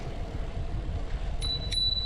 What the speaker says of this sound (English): one thing that I love about the Brompton is that it just features a bell that I can use on demand